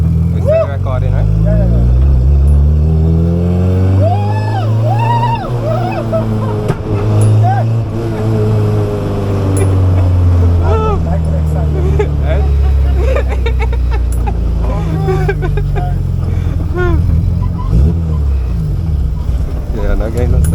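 Honda Civic EK6 engine revving hard while driving, rising and falling through several long pulls with a loud, close whine and rumble, and voices talking over it.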